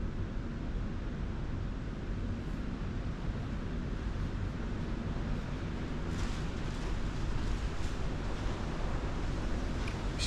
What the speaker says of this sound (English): Excuse the background noise, the wind is blowing terribly